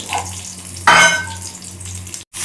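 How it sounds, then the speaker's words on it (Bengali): Chickpeas frying with black cumin and green chili in a home breakfast pan, a sudden loud sizzle burst as they hit the oil, then settling to a steady softer crackle with a low hum beneath. "ছোলা দিয়ে একটু কালো জিরে কাঁচা লঙ্কা দিয়েই ভাজা ভাজা হবে"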